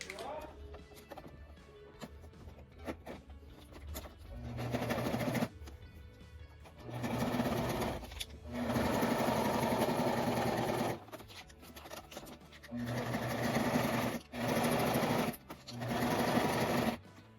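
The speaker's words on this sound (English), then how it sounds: "I'm going to sew them with the square with the X inside of it for the straps on the straw holes of the Capri Sun bag." A sewing machine stitches straps onto a tote made from Capri Sun pouches, running in several bursts of rapid mechanical whirring separated by short pauses, close and fairly loud, with a person talking between runs.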